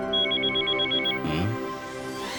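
A cartoon telephone rings in a rapid trilling burst for about a second, then a short swooping cartoon sound effect follows over steady background music, with no talking.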